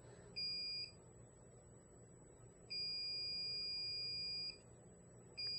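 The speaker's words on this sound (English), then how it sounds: "I'm going to hook up that reed switch to the continuity buzzer." A continuity tester buzzer, triggered by a reed switch and magnet, beeps in clear tones: a short beep, a longer sustained one, then the start of another, against quiet background hum.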